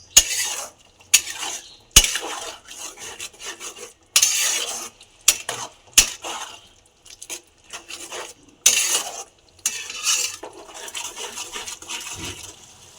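A spoon scrapes and stirs potol chingri, a pointed gourd and prawn dish, in a pan with ghee and garam masala. The strokes come as a rapid series of close, gritty scrapes and clinks with short pauses between them, and no one speaks.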